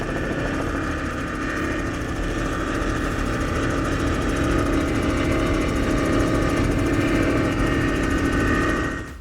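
Powerboats with 525 engines run in a steady, dense, throbbing roar that stays loud and unbroken throughout, with no talking.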